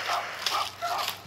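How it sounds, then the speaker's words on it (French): Several short barks from a dog, clustered in quick bursts, moderately loud with a faint background hum; setting is an indoor home vlog. "ça aboie dans tous les sens ici"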